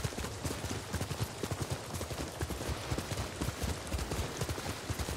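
Horse hooves clip-clopping in the video game Ghost of Tsushima, a quick regular gallop of thuds throughout, fairly close and steady with no voices over it.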